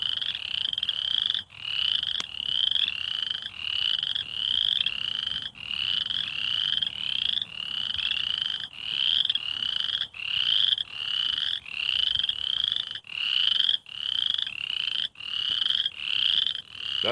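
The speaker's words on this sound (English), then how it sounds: "Those frogs are going crazy." A dense chorus of frogs croaking continuously outdoors, rhythmic pulsing calls repeating rapidly and loudly, with no voices.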